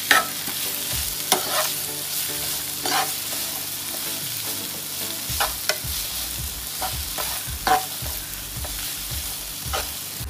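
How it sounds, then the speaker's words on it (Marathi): Green chilli and capsicum sauté in a hot pan for Goan chicken chilli, with steady close sizzling broken by repeated scraping stirs of a spoon, and no voices. "ग्रीन चिली आनी डब्बू मिरची घालपाची चिली आनी डब्बू मिरची ती मातशी परतून घेवपाची"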